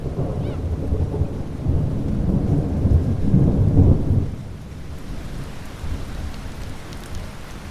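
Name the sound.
rain falling outdoors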